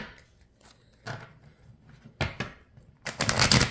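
Brisk papery tarot card shuffling in a few separate bursts, the last one louder and longer, close by with no talking.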